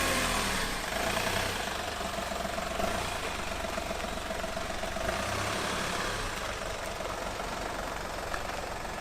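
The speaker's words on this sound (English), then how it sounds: "Engine sounds really good." A Volkswagen Polo engine idles steadily with a low, even rumble and slight knocking texture, continuous and fairly loud throughout.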